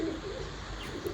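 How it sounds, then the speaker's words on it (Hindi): A saleti pigeon held in the hand gives a short, soft, low coo, close and fairly quiet against a faint background hiss. "और कबूतर अभी इस वक्त मेरे हाथ में"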